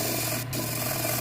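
Hand sanding of a wooden honey dipper turning on a lathe, a steady continuous rasping hiss with a low machine hum underneath and a brief lull midway, close and fairly loud.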